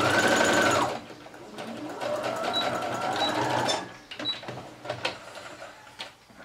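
A sewing machine stitches a fabric garland, opening with a fast, loud whirring run that stops after a second. Quieter mechanical clicking and shuffling of fabric follow, along with brief sharp ticks and a few more short bursts of machine noise.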